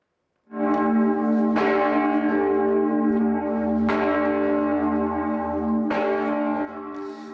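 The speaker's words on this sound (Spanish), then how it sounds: "Es el repique de la campana más grande y antigua de la Catedral de Mallorca" The largest and oldest bell of Mallorca Cathedral tolls slowly, three heavy strikes a couple of seconds apart, each ringing out with long, rich overtones.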